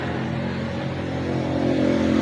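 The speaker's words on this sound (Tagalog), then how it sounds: "Palyado ang motor." A Honda XRM 150 motorcycle engine revs with a rough, uneven misfire, a loud close drone that climbs steadily in pitch.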